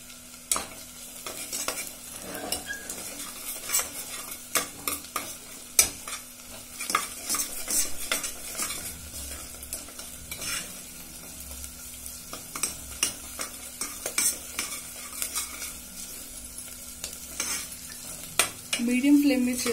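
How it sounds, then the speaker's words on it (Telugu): Ginger garlic paste frying in a pan for pav bhaji, a low hiss under frequent sharp spatula scrapes and knocks against the metal, close and continuous with no talking. "మీడియం ఫ్లేమ్ మీద చేసుకుంటే బాగా వేగుతాయి."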